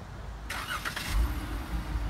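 A 2015 Jeep Grand Cherokee Limited starts by remote start, a short cranking burst followed by the engine settling into a low, steady idle close by.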